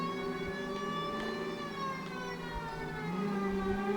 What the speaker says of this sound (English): just turn on your sirens